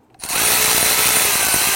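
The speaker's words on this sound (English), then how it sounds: "Let's go ahead and snug down our hose clamps." A power tool whirs on sharply and runs steadily, loud and close, while hose clamps are tightened on a car's air intake hose.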